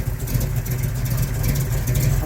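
A rebuilt 454 V8 in a 1969 Chevrolet El Camino runs steadily, a loud, close, continuous low rumble with even firing and no talk over it.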